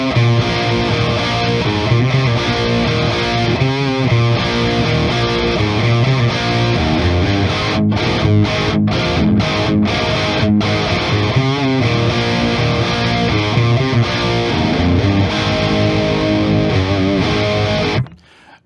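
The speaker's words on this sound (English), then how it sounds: "that was the sound that a Les Paul into a Marshall JCM-800 is supposed to be." Les Paul electric guitar played through a Marshall JCM-800 amp, chugging out a heavily distorted riff with loud, dense chords, rhythmic palm-muted stops and a sudden cutoff at the end.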